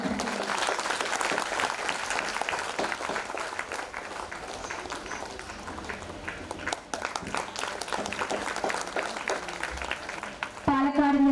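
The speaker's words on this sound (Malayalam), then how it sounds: "നല്ലൊരു കയ്യടിയോടുകൂടി" An audience applauds at the Sukrutha Smrithi award ceremony of a charitable and welfare trust, a dense, sustained clapping that continues throughout with a voice speaking over it.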